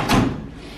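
A drawer in a bike garage tool cabinet slides shut with a single short thud, followed by a brief fading rumble.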